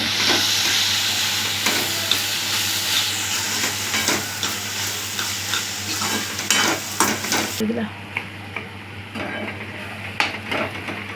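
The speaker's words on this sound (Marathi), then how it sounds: "आता मी चांगलं हलवून घेते" Turmeric, Malvani masala and homemade cumin-coriander powder are stirred in a hot pan for a dried bombil dish, giving a close, steady sizzle and hiss with repeated scraping strokes that grow more distinct toward the end.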